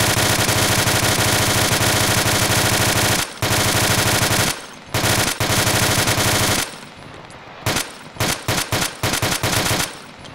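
Sustained automatic turret machine gun fire in the video game ARMA 2, loud and continuous for several seconds, then breaking into short stuttering bursts with brief gaps.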